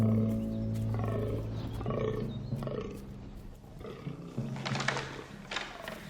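Rutting fallow deer stags in autumn Slovak forest give repeated deep, hoarse groans, overlapping and fairly loud across the whole stretch, with a low drone beneath and no voices.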